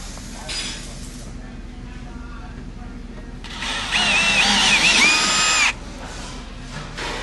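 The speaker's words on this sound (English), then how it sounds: "you'll go ahead and drill them out using the same drill bit as the previous steps" A power drill bores holes for a rear lower fender flare on a Polaris Ranger 1500 XD, with short bursts and then a longer, louder whining run at close range over a low background hum.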